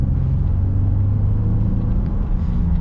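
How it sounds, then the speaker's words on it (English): A 2026 Honda Ridgeline RTL engine runs smoothly at a steady idle, a low, even rumble with a constant hum and no revving, heard alone without talk. "And the engine's just smooth"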